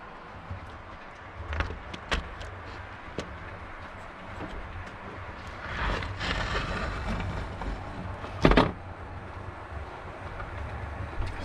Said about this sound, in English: See what a scrap train looks like going past my place